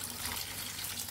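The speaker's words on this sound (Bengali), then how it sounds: "এখন হালকা একটু জল দিয়ে দিব, খুব সামান্য পরিমাণে একটু" A small splash of water poured into a cooking pan of pumpkin and shrimp curry gives a brief, steady, close trickle with no voices over it.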